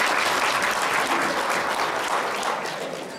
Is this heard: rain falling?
no